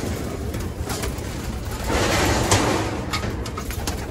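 Pet pigeons coo softly in low, murmuring tones while waiting for their morning feed, against a constant background noise that swells midway.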